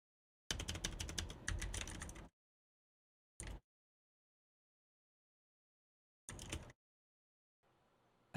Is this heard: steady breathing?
no